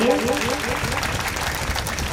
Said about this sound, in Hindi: एक बार जोरदार उनके स्वागत में तालियां बजा दीजिए